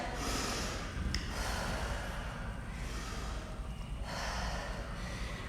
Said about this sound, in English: Some big deep breaths.